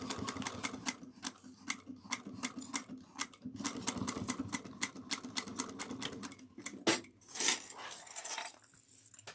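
A sewing machine back stitches binding on a cross-body bag in short, stop-start bursts of clicking stitches, close and fairly quiet, with a brief fabric rustle near the end.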